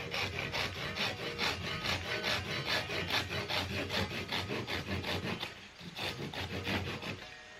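A handsaw cuts through a wooden dowel in a workshop, each stroke rasping in a steady back-and-forth rhythm. The strokes sound close and fairly loud, with a brief pause near the end before sawing resumes.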